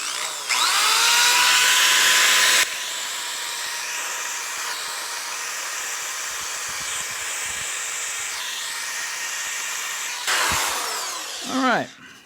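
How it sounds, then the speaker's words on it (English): Power drill running in reverse while buffing and polishing an old pickup part: a loud whining hiss at first, then a steady lower grinding drone with intermittent scraping, ending with a rising whir as the drill spins down. "I'll actually turn the drill the other way."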